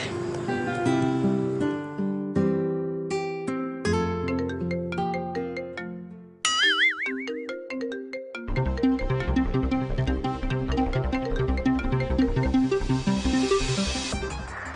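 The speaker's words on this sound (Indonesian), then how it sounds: "Telepon Adita" A melodic phone ringtone plays loud and continuous for a call, a tinkling tune with a short pause midway and a brief warbling trill, then the melody resumes fuller until the end.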